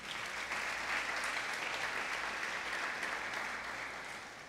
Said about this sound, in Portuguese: Dá um aplauso a Jesus aí.